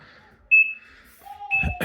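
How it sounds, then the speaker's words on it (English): A home security alarm keypad counts down its one-minute exit delay after being armed, giving two short, sharp beeps about a second apart, close and clear, followed by a burst of handling noise. "now it's gonna beep. You hear it beeping, and it'll beep."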